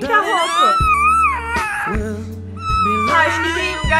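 Kitten-like meows, apparently voiced by a person imitating a cat, rise and fall in a few drawn-out calls over steady background music.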